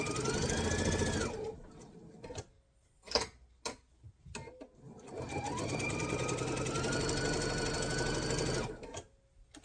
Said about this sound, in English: I'm going to sew a 1/2 inch across that bottom.